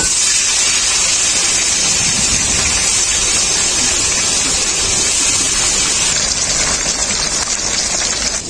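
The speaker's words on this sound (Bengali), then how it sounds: "তেল খুব ভালোভাবে গরম হয়ে গেছে, মাছগুলো ভেজে নেব।" Rohu fish pieces frying in hot mustard oil in a wok, a loud, steady, dense sizzle that fills the whole span with no talk.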